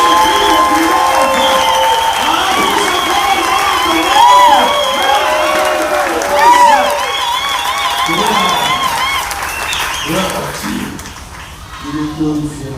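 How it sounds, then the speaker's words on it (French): Church congregation at a Sunday service applauding and cheering loudly, sustained crowd noise with clapping, shouts and singing-like voices mixed together, then thinning toward the end. "Acclamez, acclamez, acclamez, et plus au plus au plus haut."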